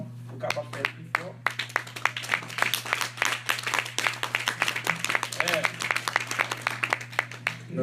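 A louder round of applause from a church congregation, with dense, continuous clapping that holds steady throughout over a low hum while a preacher speaks on top.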